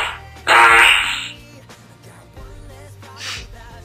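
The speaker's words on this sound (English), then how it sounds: "Even if I heard a million times, this farting is still funny." A soundboard fart effect plays loud and fairly long near the start, a single sputtering blast, followed by quieter room noise and a faint later burst.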